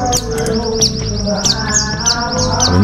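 A Kintamani songbird chirps in a rapid, repeated series of bright tweets, close and loud over a busy background of other birdsong.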